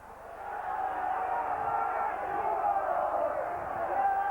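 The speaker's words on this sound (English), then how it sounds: "But the whole crowd getting behind him." A rugby league crowd at a Hull versus St Helens match roars steadily. The dense, sustained cheering fills the whole stretch from a distance and swells slightly toward the end.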